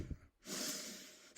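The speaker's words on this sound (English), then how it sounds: "forceful inhale, forceful exhale" Forceful activating breathwork: a short sharp sniff-like inhale, a brief pause, then a long loud rushing exhale held close to the microphone, cut off by another sudden intake at the end.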